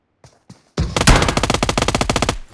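Rapid automatic gunfire in a shooting video game: a couple of soft shots, then a loud sustained burst of evenly spaced rounds lasting about two seconds, close and dominant with no talk over it.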